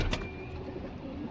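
Pigeons coo softly at a pigeon show and sale in Howrah, a brief low burble close by against a steady background hum.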